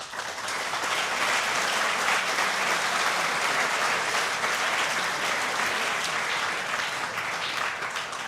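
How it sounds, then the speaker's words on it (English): Audience applause at an evening assembly hall after a correct answer about the Battle of Antietam, a dense, sustained wash of clapping from a large crowd lasting several seconds, with no talk. "I appreciate the applause for the right answers"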